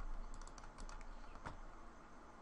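Computer keyboard keys tapped in a quick, faint cluster of light clicks, followed by a single sharper press as Control V is hit.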